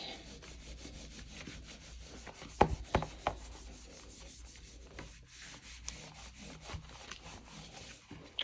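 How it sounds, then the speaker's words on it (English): Two glued paper pages of a gelli print rubbed by hand, a faint, steady papery rubbing up close, with a few soft taps and creases standing out near the middle, and no talking. "I've been rubbing this side a bit more because of this is 2 pages glued together"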